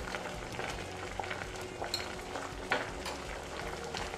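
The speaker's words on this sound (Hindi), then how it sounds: "अब पानी अच्छी तरह से उबल रहा है" A pot of water bubbles at a full boil close by, a soft continuous fizzing with small pops and an occasional clink.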